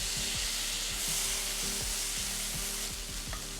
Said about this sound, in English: I love a sizzle in the kitchen